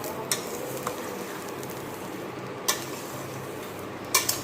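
Peanuts roast in salt in a pan with a steady dry hiss, broken by a few sharp scraping clicks as the pan is stirred.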